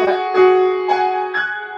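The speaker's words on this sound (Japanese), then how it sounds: "だからガムランの音って結構ぶつかるから、ガシャンって。" Piano playing a Debussy piece in gamelan style, four struck, clashing chords spaced about half a second apart, each ringing loud and close before the next.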